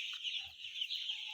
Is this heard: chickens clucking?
yes